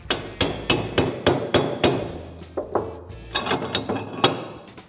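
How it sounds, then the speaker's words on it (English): A hand press piston is hammered down repeatedly to mold charcoal and binder briquettes, a steady run of about a dozen sharp, close metallic-wooden knocks at roughly two per second, with a brief pause midway. "Hammer down the piston."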